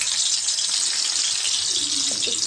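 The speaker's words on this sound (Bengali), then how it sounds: "একটু পানি দিয়ে দিলাম," Water pours steadily into a cooking pan (kadai) for rohu-style katla fish curry with oil and onion paste, a continuous close hiss and trickle that lasts throughout with no talk.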